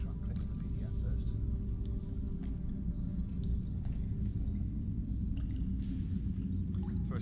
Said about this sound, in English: But no, it is just a plane going overhead.